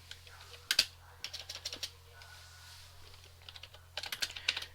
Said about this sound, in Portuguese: A digitação tá ruim porque o teclado é novo